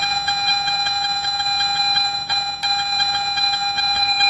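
A Garrett metal detector gives a steady, repeatable high target tone as the coil passes back and forth over a buried target, holding nearly continuous with a faint pulsing.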